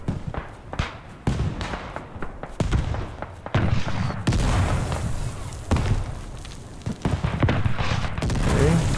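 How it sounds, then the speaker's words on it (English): A grenade blast in the Beyond The Wire World War I shooter lands amid scattered gunshots and heavy rumbling battle noise, with booming bursts rising over a constant din. "I think I threw a nice nade right there"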